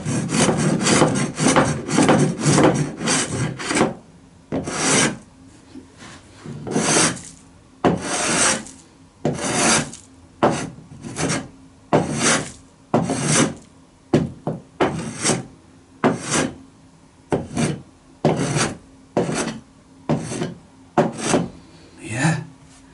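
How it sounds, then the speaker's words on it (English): Wood is sanded by hand on a wooden art piece, with rough rasping strokes close by, rapid at first, then settling into a steady rhythm of separate back-and-forth rubs. "And the final touch is I can sand."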